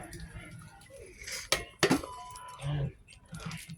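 A metal lid is set onto a cooking pot of pork belly with bay leaves, a couple of sharp close clanks and clinks amid light kitchen handling, with faint talking around them.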